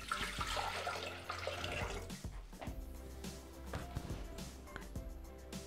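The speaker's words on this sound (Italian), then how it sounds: "Versiamo all'interno del boccale l'acqua." Water poured into a Thermomix TM6 mixing jug while preparing a tuna, egg, potato and zucchini salad, a close, steady splashing pour with gurgling and a few drips as the flow eases.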